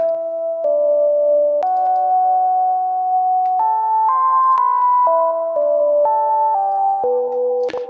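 A single synthesizer voice with no portamento glide plays a slow melody of clean, steady notes that jump abruptly from pitch to pitch with no sliding between them.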